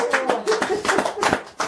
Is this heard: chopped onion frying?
no